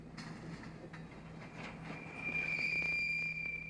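Railroad cars roll down the hump of a rail yard with low rumbling and faint clicks, then a sharp, sustained metallic squeal rises as retarders grip the wheels, moderately distant and steady.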